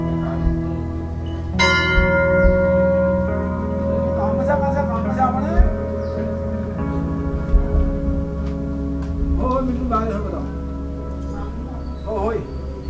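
Brass temple bells ring at the Golu Devta temple in Almora, Uttarakhand, a bright struck clang followed by long shimmering decay, with further strikes and overlapping resonance, while a person talks over them nearby.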